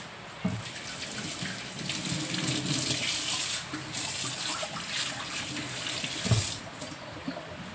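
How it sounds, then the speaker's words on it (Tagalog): Tap water runs steadily over alugbati spinach being washed in a sink, a close, continuous splashing rush with faint handling clatter and no voices. "Hugasan ba sa anak ko ang akong agbati."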